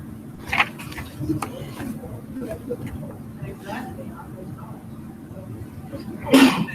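A single sharp sneeze bursts out near the end, over a steady murmur of people talking in a room.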